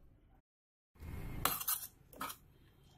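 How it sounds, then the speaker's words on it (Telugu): A spoon clinks and scrapes against a bowl while egg paniyaram batter is mixed with pepper powder and salt. After a moment of silence come two short bursts of close, bright metallic clatter. "అన్నీ వేసి ఇలా బాగా కలుపుకోవాలి"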